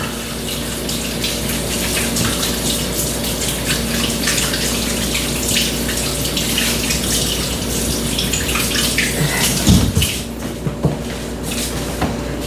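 Water runs steadily from a kitchen tap while hands are washed, a continuous close splashing hiss with a few soft knocks partway through.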